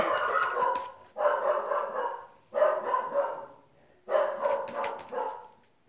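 A dog barks in repeated loud bursts, about four rough volleys spaced a second or so apart, close to the listener and with no talk over it.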